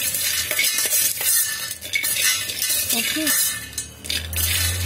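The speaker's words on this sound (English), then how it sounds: "You have to keep stirring this." Peanuts roasting inside an electric kettle are stirred with a utensil, giving close scraping and clinking over a soft sizzle, with a brief spoken word partway through.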